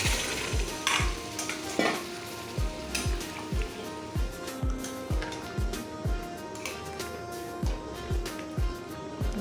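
Paneer and potato curry bubbling in a pan, with regular, evenly spaced low thuds of stirring over a soft continuous sizzle, close by and moderately quiet, no voices.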